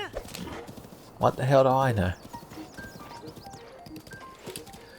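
Horse hooves clip-clop in the video game Breath of the Wild, a soft steady patter under background game sound, interrupted midway by a loud whinny-like harmonic burst; someone talks briefly.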